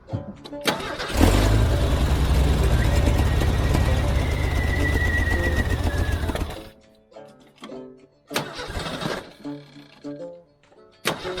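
A 1983 Jeep CJ cranks, then its engine catches and runs loud and close at a rough idle for about five seconds before cutting off, followed by brief clunks and a short voice.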